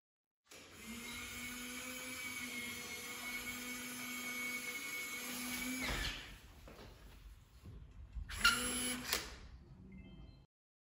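A Nuki Smart Lock 3.0 motor drives a door lock, a steady whirring hum running for several seconds, then a short second burst of whirring and mechanical clicks, close and alone.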